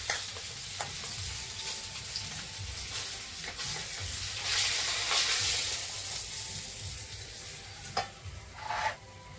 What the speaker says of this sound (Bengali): মাছ আমার প্রায় ভাজা হয়ে গেল